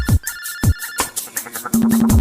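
A video phone rings with a loud electronic ringtone, a repeating pattern of bright chiming tones and pulsing beats that fills the whole stretch, with no talking.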